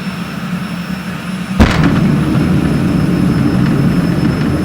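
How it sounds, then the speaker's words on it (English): A jet car launches down a drag strip at a muscle car show with a sudden sharp blast, then a loud, sustained roaring jet rush that holds steady. "Are you guys ready for the jet car?"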